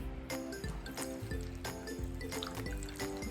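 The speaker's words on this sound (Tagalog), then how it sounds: "Ang lagyan natin ng konting tubig." A little water is poured into a pot of fish paksiw, a vinegar-based fish stew, just after the vinegar goes in: a close, steady splashing trickle with small uneven pulses, heard alone.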